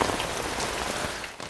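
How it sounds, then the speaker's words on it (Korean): Heavy rain pouring down outdoors in a film scene, a dense, steady hiss of drops striking surfaces, loud and continuous with no voices. "따라해봐. 비가 주룩주룩 내려요."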